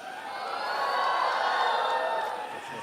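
Audience at a military history session cheering and making noise, a broad sustained roar of voices and whoops that swells in the middle and eases toward the end, fairly loud and continuous.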